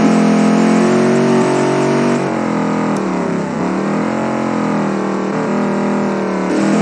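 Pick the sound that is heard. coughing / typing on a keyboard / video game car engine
video game car engine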